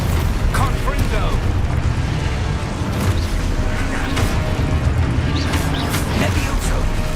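Blasting spell explosions in the video game Hogwarts Legacy, a dense run of booming, crackling bursts under constant game noise, with spoken spell names mixed in.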